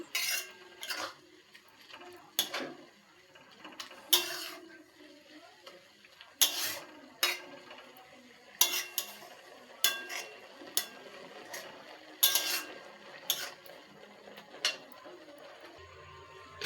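A spoon stirring milk in a cooking pot gives repeated light metallic clinks and scrapes in an uneven rhythm. The sound is close and moderately quiet, with no voices.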